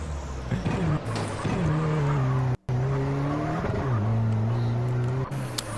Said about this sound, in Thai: เสียงมันสมจริงตอนที่เบิร์นยางอย่างเดียวนะครับ